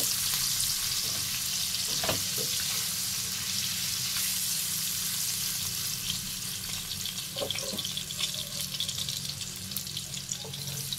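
Salted paneer pieces frying in a pan, a continuous close, even sizzle with a few soft taps and clinks as the pieces are turned.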